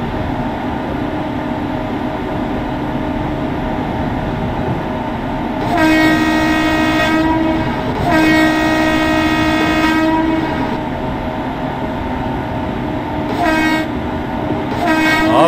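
Kalka Mail pulling into Chandigarh Junction in Indian Train Simulator, a loud continuous rumble of the train under repeated long horn blasts that come and go, with no voices.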